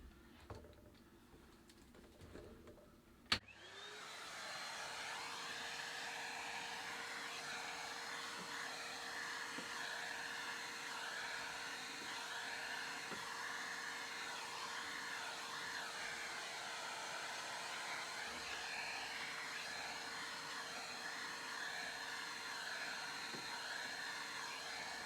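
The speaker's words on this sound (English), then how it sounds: "You can use a vacuum with a brush." Vacuum cleaner with a brush cleaning the condenser coils of a ProBreeze PB AC05 portable air conditioner: a quiet click, then a steady whining motor hum that runs unbroken and even for over twenty seconds.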